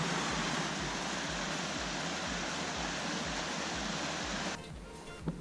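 A steady, dense roar of falling water from a waterfall in an autumn Chornohora forest fills the scene, broad and continuous. It drops off abruptly near the end, leaving a softer wash of water.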